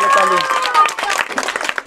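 Children in a school classroom clap for the winner of an ABCD letter game, a short burst of scattered, uneven applause with a teacher's voice over the start.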